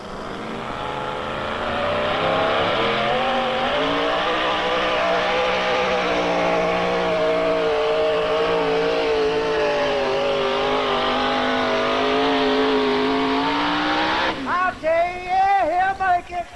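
A 1941 Willys Jeep engine roars and strains continuously in a pulling contest, pitch slowly climbing under heavy load, then sputters and revs unevenly near the end; crowd noise faint beneath.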